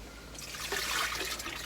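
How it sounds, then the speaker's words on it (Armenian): Water poured into thick blackberry mash for homemade wine, a short gentle trickle that swells slightly and then continues, close and quiet. "Դեռևս թանձր է եւ ես ջուր եմ ավելացնում։"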